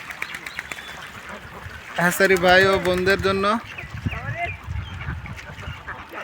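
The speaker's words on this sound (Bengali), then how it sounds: "আমার পিছনে দেখতে পাচ্ছেন অনেকগুলো হাঁস আছে।" Ducks at a duck farm in Mymensingh district quack and honk in a loud, harmonic burst partway through, with someone talking over the steady farm background.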